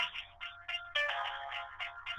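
A mobile phone ringtone plays a short musical melody, loud and close, looping tonal phrases for a couple of seconds with no voices.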